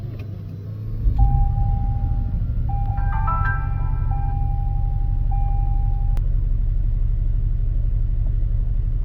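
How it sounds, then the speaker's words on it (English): A vehicle engine cranks and catches about a second in, then settles into a steady low idle rumble, while a few high electronic chime tones sound over it. "Now let's go ahead and start up the vehicle."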